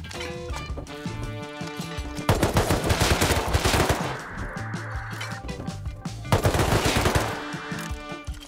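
Rifles fire in a survival video game in rapid bursts of sharp, repeated reports. Between the bursts there are clattering in-game effects, and the bursts come loud and close, alone with no talk.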